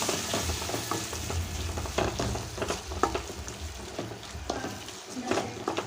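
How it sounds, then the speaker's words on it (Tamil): Shallots, curry leaves and tomatoes sauté in a hot pan for a Sunday home-cooked meal, a steady close sizzle broken by repeated stirring scrapes and clatters, with no talking. "இதில் தக்காளியை போட்டுடலாம் நல்லா வதக்கி கொடுக்கலாம்"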